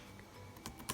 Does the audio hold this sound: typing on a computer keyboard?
yes